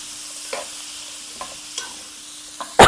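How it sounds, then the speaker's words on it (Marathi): Spices sizzle softly in oil, broken by a few light scrapes of a stirring spoon and a sharp clatter at the end. "मस्त खमंग अशी फोडणी झाली आहे आपली"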